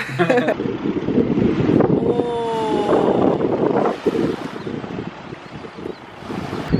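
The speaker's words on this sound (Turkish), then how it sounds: "Hava soğuk rüzgarlı" Strong, gusty, cold wind buffets the microphone throughout at a beach in Çeşme, with people talking over it and a brief tonal chirp partway through.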